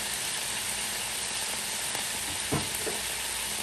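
White wine hitting a hot pan of chicken, a steady loud sizzle and hiss with a faint stir or clink near the end and no talking.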